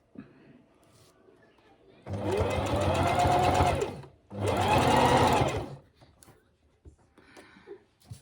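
A sewing machine stitches fins onto a costume with a long stay-stitch, running in two loud, steady bursts of about two seconds each with a short pause between, close up and with no talk over it.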